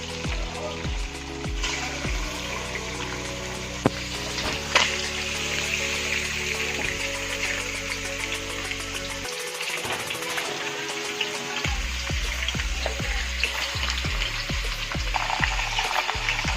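Katla fish frying in oil in a hot wok, a steady crackling sizzle heard close and continuously beneath a tonal background melody that shifts pitch in steps, with no speech.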